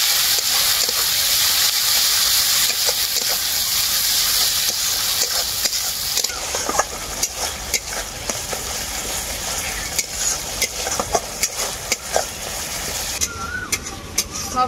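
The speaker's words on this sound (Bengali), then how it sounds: "একসাথে মশলাটাকে আমি খুব ভালো করে কষিয়ে নেব।" Ground turmeric, cumin paste, dried chili paste and mustard paste fry together in hot oil, giving a steady close sizzle and hiss broken by scraping stirs that grow more frequent in the second half.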